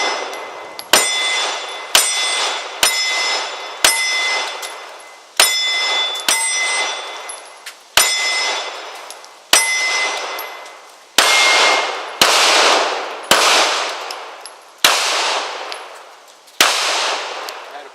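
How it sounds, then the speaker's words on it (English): Bullets strike a steel Challenger shooting target, each hit a sharp metallic clang ringing out and fading, about a dozen spaced impacts in an irregular rhythm, loud and alone. "Now that Challenger target is really sounding good."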